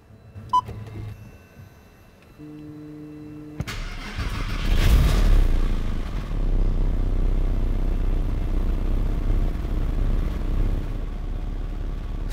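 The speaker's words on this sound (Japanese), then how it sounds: "ではエンジン始動していきます。" A 2005 Porsche 911 (Type 996) Carrera 4S with a six-speed manual: dashboard chimes ring before the engine cranks and fires, briefly revs up, then settles into a steady, low idle.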